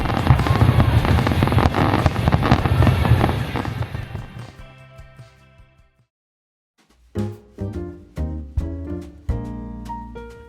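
Fireworks show over English Bay in Vancouver, watched from Kits: a dense, loud wash of crackling and booming that fades to near silence, then a run of separate sharp bangs, each with a ringing tail.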